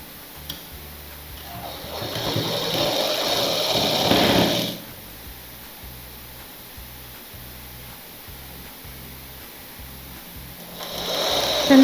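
A sewing machine stitches a petticoat (chemise) seam, running steadily for about four seconds, then stopping, with a faint mechanical ticking continuing afterward and a brief restart at the end.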